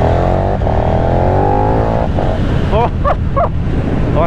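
A Paika motorbike engine revs hard and loud close by, rising pitch sweeps of acceleration followed by several sharp throttle blips and rapid upshifts.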